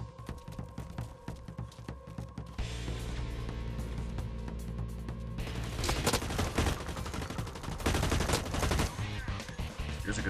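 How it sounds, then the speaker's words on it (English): Sustained full-auto gunfire in the first-person shooter Blacklight Retribution, rapid bursts layered and loud, intensifying toward the end with dense overlapping shots and no voices. "players tend to panic and go full auto rather than keeping their shots controlled"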